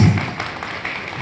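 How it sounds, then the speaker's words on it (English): Applause from an audience at the opening of a school cluster-level sports festival, a short burst of broadband clapping that tails off with a low hum beneath. "Please give a big round of applause"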